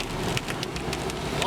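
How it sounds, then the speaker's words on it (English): Large hailstones pour down and bounce on grass during a violent storm, a steady close clatter of scattered impacts with rain-like hiss throughout, under occasional faint voices. "Big hail cascading in there"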